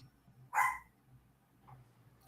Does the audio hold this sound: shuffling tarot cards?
no